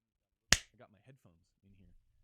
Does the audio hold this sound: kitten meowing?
no